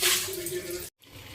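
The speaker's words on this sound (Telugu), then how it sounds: "ఇక్కడైతే వేడి నీళ్ళు మరుగుతున్నాయి కదా, నేనైతే స్టవ్ ఆపేస్తున్నాను." Hot water boiling in a pot on a stove gives a loud, steady bubbling hiss up close that cuts off abruptly near the end, then resumes more faintly.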